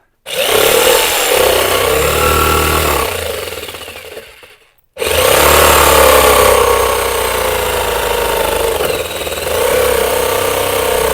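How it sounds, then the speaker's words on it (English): A jigsaw cuts aluminum sheet during an RV instant hot water heater installation, a loud, close, harsh buzzing rattle in two long runs split by a short pause. "This is the first time I've used this particular jigsaw."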